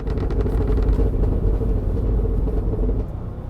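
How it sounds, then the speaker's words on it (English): A Cadillac Escalade V truck's exhaust rumbles on liftoff, a deep continuous burble with low crackles and pops, heard close and loud with no voices. "There is no sports car on the planet with more burble on liftoff than this truck."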